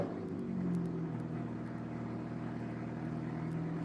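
Loud car engine noise rolls steadily past, a sustained low rumble with a droning hum, close and continuous with no talk.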